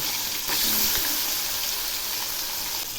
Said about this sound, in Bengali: এগুলি আবারও একটু উল্টে দিচ্ছি